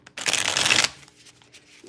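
A deck of tarot cards being shuffled, one close, loud riffling burst lasting about half a second, then quiet handling noise and a voice starting at the end.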